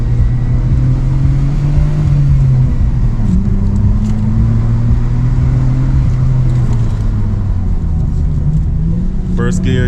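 A Nissan R34 GTR engine pulls hard in first gear on a Mt. Fuji hillclimb road, loud and close from inside the car, its pitch rising and falling through corners. A driver's voice occasionally comes through.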